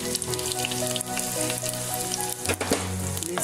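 Steady, close sizzling of onions frying in hot oil, a constant crackle with faint stirring scrapes and no voices.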